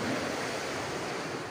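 Continuous rushing of flowing water at a beach resort, a steady broadband hiss with no breaks, moderately loud and close, no talking.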